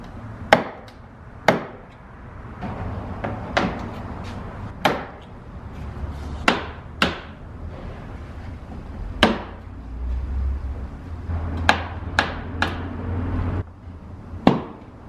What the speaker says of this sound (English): So just get yourself like a pry tool so you can start undoing those.